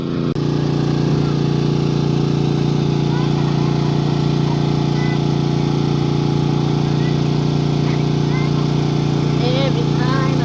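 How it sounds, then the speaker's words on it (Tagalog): A generator runs steadily in the desert, a loud continuous engine drone with a strong low hum throughout, and a voice talks briefly over it. "Yan, ang ingay ng generator"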